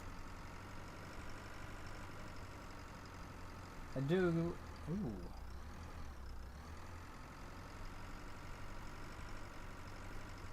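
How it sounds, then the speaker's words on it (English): A tractor engine idles in the farming simulator Pure Farming 2018, giving a steady low rumbling drone throughout, while someone briefly speaks over it. "Beautiful sounding tractor."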